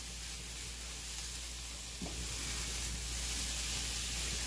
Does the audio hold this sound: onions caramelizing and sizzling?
yes